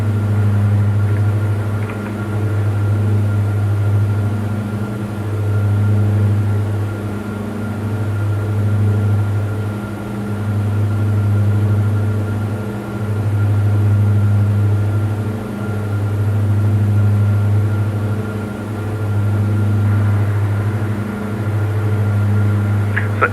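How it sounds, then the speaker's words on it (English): Steady drone of the Diamond DA42 twin engines in Microsoft Flight Simulator 2020, a loud low hum that swells and dips in a slow regular pulse throughout, heard alone without talk. "So it is definitely a bit of a noisy plane"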